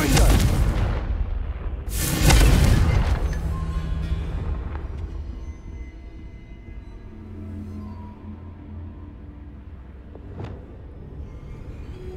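Confringo fire spell in Hogwarts Legacy: two loud booming blasts land close together at the start, each rolling into a long rumbling decay, followed by softer crackles and a lone sharp pop later over a low ambient bed.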